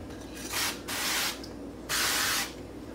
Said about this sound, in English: I'm just gonna go ahead and spray my tortilla maker.